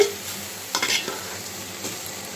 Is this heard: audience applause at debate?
no